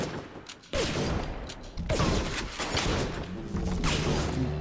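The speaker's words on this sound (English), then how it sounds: "I don't even know what he's shooting." Rapid gunfire from a splicer's weapon in the video game Bioshock, a dense burst of shots and crashing impacts filling the whole stretch, loud and continuous over a rumbling game backdrop.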